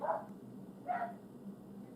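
Dogs bark outdoors at a moderate distance, two separate barks about a second apart over a quiet background.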